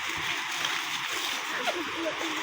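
A large river flows with a steady, rushing wash of water and occasional splashes, heard up close while a person talks over it.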